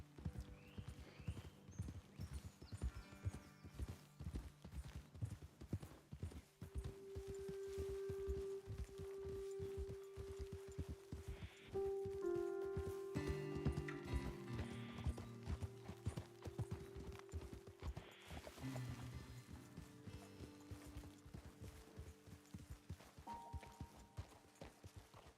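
Steady clip-clop of horse hooves walking on hard ground in the video game Red Dead Redemption 2, continuous and fairly close, with a low ambient drone and occasional faint tones beneath.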